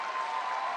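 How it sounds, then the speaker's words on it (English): A badminton crowd at the 2014 Badminton Asia women's doubles final cheers and applauds after a rally, a steady, dense roar of clapping and voices that fills the whole short stretch. "you can hear what the crowd think about that"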